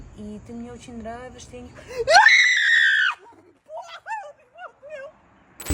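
A woman screams in panic after touching a spider: a loud, high shriek of about a second, framed by shaky whimpering and giggly vocal sounds, with a sharp bang at the very end.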